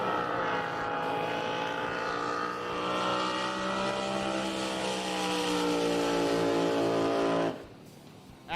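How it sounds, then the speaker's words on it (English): Drag boat racing engine at a drag boat nationals event, a loud sustained roar with a rising harmonic whine as it accelerates past, then cutting off abruptly near the end into quieter background noise. "Out of the throttle for Tom Riggs."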